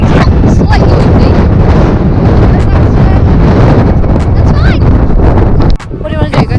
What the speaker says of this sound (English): Slightly windy.